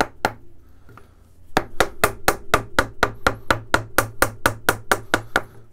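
A wooden mallet drives a wood carving gouge straight against the grain, a close, loud run of regular sharp knocks, about sixteen blows in a steady rhythm after a couple of opening taps.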